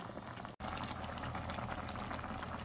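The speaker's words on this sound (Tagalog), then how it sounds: "yan na ang niluluto kong sinigang na ulo ng isda" Fish-head sinigang soup simmering in an uncovered pot, a steady soft bubbling that runs continuously with a brief drop-out near the start.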